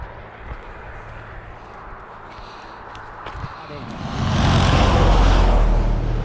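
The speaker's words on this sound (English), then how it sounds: "cold wind and wetness from all the trucks passing by" A truck roars past on a wet road during a cold rain, its loud hissing swell of tyre spray rising sharply midway and holding close by, after quieter traffic noise and a few footsteps.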